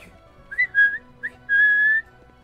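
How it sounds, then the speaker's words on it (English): A person whistles to call a pet: a few short rising whistle notes followed by one longer sustained tone, close and clear over a quiet room. "Whistle to your baby."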